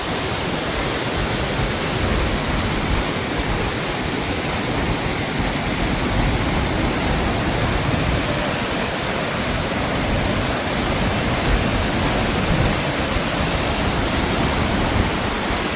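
Soochipara waterfall in Wayanad roars as a loud, dense, unbroken rush of falling water, steady throughout with no voices.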